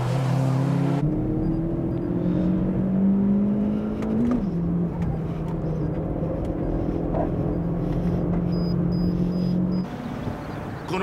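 A turbocharged race car accelerates hard around the Tsukuba circuit, its engine note climbing steadily through the gears with brief drops at shifts, loud and continuous, ending with a lift-off near the close.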